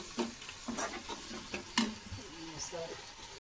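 Mushrooms with masala and a little water are stirred in a frying pan, with scraping spoon strokes over a soft sizzle, close by and fairly quiet.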